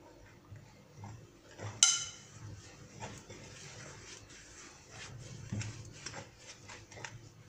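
Dough ingredients for beignet-style balls are stirred in a bowl with soft, irregular scraping and occasional light clinks, one sharper knock early on, quiet and close.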